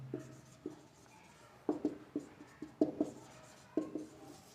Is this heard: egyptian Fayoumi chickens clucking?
no